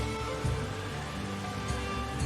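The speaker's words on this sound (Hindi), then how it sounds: "फिर मूसलाधार बारिश शुरू हो गई।" Heavy rain pours steadily, a dense continuous hiss of drops with a low rumbling undertone, no voices.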